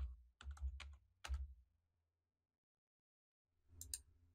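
A password typed on a computer keyboard: a quick run of close, crisp key clicks, a short pause, another click, a long silence, then a final few keystrokes.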